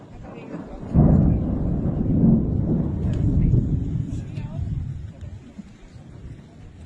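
A thunderstorm with strong wind gusts sweeps over the city of Osijek, Croatia: deep rumbling thunder and buffeting wind roar close to the microphone, swelling after the first second and easing slightly toward the end.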